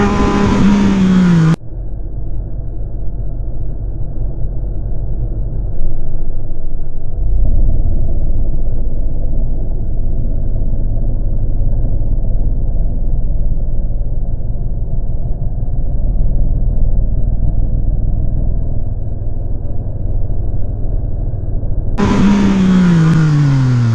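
A Yamaha MT-09 motorcycle engine drones steadily at low revs while riding at road speed, a close, loud, continuous rumble with a rising rev at the start and end.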